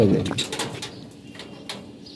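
A pigeon coos softly at close range indoors, a few low rounded calls over faint background noise.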